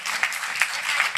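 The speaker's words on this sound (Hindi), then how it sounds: "आप सब जोरदार तालियां बजाएं।" A brief patch of crowd applause at a Hindi kavi sammelan poetry gathering: a short, fairly close wash of many hands clapping together.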